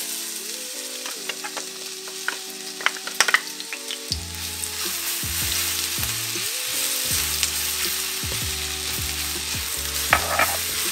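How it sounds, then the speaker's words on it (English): Garlic fries in leftover chicken oil in a hot wok over medium-high heat, a loud continuous sizzle with spatula clinks and stirring scrapes, set against steady background music. "Once that's heated up, let's throw in the garlic."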